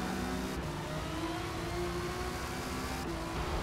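Lamborghini race cars battle on track in Forza Motorsport, a steady droning engine whine with sustained tonal hum and no break, holding level throughout the few seconds.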